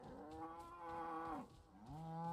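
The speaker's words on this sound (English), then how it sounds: "Long-haired sheep." Long-haired sheep in the video game Crimson Desert give two drawn-out, tonal bleating calls, the first longer and the second after a short pause, clear and unaccompanied by talk.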